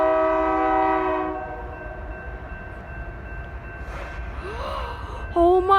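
BNSF executive train sounding its horn in a long sustained multi-tone blast, then rumbling past more quietly, with a brief horn burst near the end.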